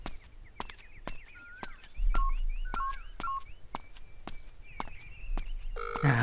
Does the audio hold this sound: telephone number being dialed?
yes